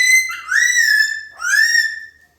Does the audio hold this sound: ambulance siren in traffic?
no